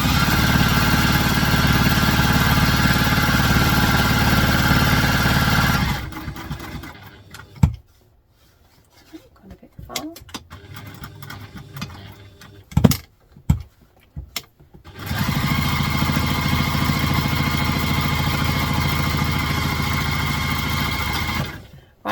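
Sewing machine back-stitching the seam of a vintage-style doctor's bag, a loud steady motorized whir for several seconds, a pause with scattered clicks and handling noises, then the whir resumes.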